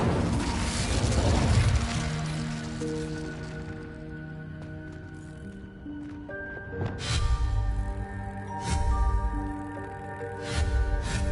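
Incendio fire spell cast in Hogwarts Legacy, a loud whooshing burst of flame with rumbling booms layered over a sustained musical score, swelling again in later surges.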